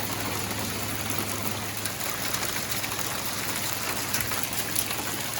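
Steady, dense patter of hail and rain striking surfaces during a surprise California hailstorm, a constant loud wash with no breaks and no voices.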